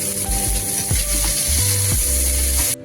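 Red and yellow bell peppers with peas sizzle in a pan while being stirred, giving a steady close hiss with a few clanking utensil strokes over a low hum, ending abruptly.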